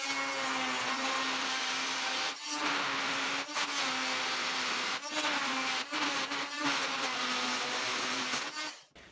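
Power tool cutting aluminium sheet metal for the nose of a home-built Cessna 172 cockpit: a loud, steady whining buzz runs throughout, with a few brief dips as the cut pauses, and no talk.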